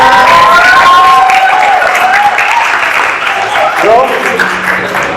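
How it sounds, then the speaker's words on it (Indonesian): An audience at a film event breaks into loud applause with scattered cheering for the director, while a voice keeps talking over the clapping. "berikan tepuk tangan"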